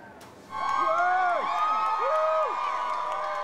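Crowd noise from onlookers who waited hours outside Windsor Castle for the royal wedding party and Prince Harry, rising suddenly into sustained cheering with shrieks and whoops, while a brass or military band plays along.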